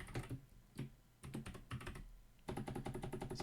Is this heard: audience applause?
no